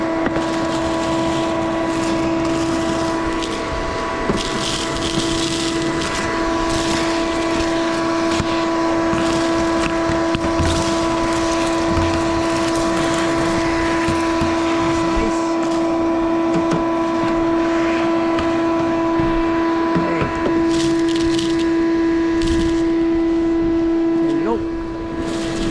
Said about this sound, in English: get my shop vac out and vacuum all this stuff right now